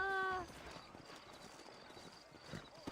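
Horse hooves clip-clopping in the Red Dead Redemption video game, a steady soft patter of steps under game ambience after a brief tonal sound, with voices faintly present.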